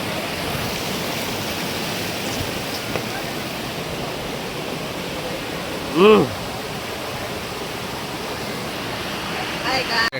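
Steady rushing roar of the waterfall at Jatashankar Mahadev near Girnar, Junagadh, fills the scene, broadband and constant, with a brief voice cutting in near the middle.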